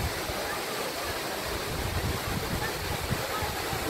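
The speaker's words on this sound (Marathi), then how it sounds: "आज आम्ही जुन्नर तालुक्यातील ओतूर गावाच्या जवळ असणाऱ्या धुरनाळी येथील धबधबा पाहण्यासाठी आलेलो आहोत" Dhurnali waterfall near Otur in Junnar taluka gives a steady, dense roar of falling water that fills the whole stretch without a break.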